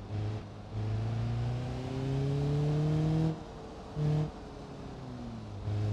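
Video game car engine revving for a burnout in BeamMP, a steady droning rev that rises in pitch, cuts out briefly, then surges again in short bursts, fairly close and alone with no talk.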